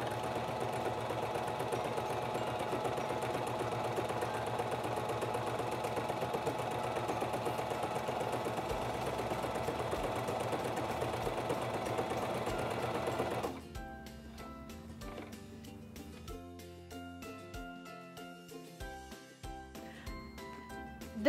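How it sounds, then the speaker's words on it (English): A SINGER 2273 Esteem II sewing machine stitches a slant overedge stitch with a fast, steady mechanical whir for about thirteen seconds, then stops, leaving faint clicks and handling sounds. "Now I want to sew a slant overedge stitch."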